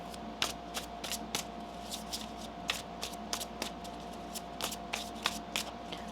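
Tarot cards riffled and shuffled by hand in a quiet room, a steady series of crisp, close flicks and soft slaps repeating every half second or so, with a faint constant hum underneath.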